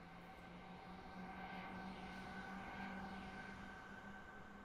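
A regional train leaves a lakeside station on the Munich–Garmisch-Partenkirchen line, heard from inside as a steady, even rumble with a faint sustained hum and whine, with no voices.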